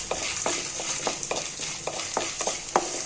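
Curry leaves, betel, tulsi and karpooravalli leaves frying with spices in a pan for a kuzhambu, a steady sizzle broken by repeated short stirring scrapes and clatters, close and moderately loud with no talking.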